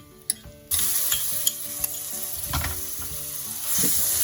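Asafoetida and ginger garlic paste hit hot oil with a sudden loud sizzle that keeps crackling steadily, with light stirring clinks underneath.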